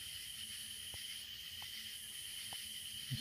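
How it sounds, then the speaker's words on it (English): Cicada droning at night in northeast Texas, a steady high-pitched buzz holding constant throughout, with a few faint clicks underneath and no voices. "Yeah, this guy right here is a cicada. They tend to make quite a bit of racket."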